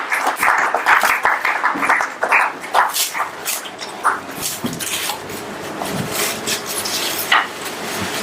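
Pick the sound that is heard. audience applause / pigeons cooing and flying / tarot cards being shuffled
audience applause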